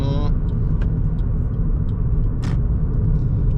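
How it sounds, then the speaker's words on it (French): A car braking and downshifting on approach to a town, heard from inside as a loud steady engine and road rumble with a brief hiss or squeal partway through. "Et là je freine et je rétrograde."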